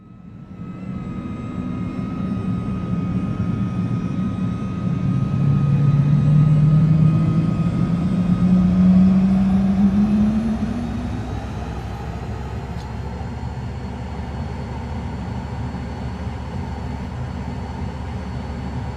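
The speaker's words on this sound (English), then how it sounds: "And we'll listen to those engines start up." Twin-engine startup of a Cirrus Vision Jet in Microsoft Flight Simulator 2020: a rising jet whine and rumbling hum swell over several seconds, peak, then settle into a steady loud idle drone.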